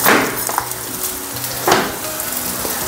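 Onions sautéing with salt in a home pan give a steady close sizzle and crackle, with a couple of brief scraping stirs of a spoon against the pan.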